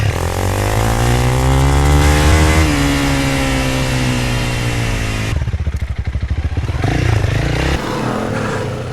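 A KTM 390 Enduro R motorcycle ridden off-road, its single-cylinder engine droning and revving near and loud, the pitch rising and shifting before a rougher, clattering stretch of engine noise.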